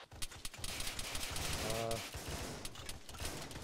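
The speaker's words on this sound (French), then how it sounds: "on a des tirs juste en contrebas" Rapid bursts of automatic gunfire and scattered shots in an Arma 3 cooperative military game battle, loud and dense throughout, with a brief faint voice underneath.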